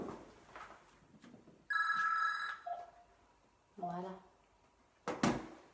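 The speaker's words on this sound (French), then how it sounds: "C'est le téléphone, je vais le couper, pardon." A telephone rings in a room with a trilling electronic bell burst, followed by clicks and handling noises while a person talks nearby.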